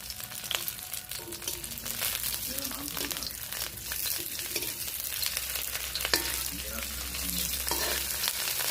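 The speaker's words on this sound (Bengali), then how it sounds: "এইদিকে মাছ ভাজা হচ্ছে।" Fish frying in a pan fills the scene with a steady, close crackling sizzle, punctuated by stirring and spatula scrapes, with a low hum underneath throughout.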